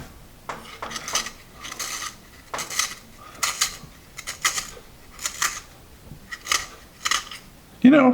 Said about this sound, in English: let me put this one in the sharpener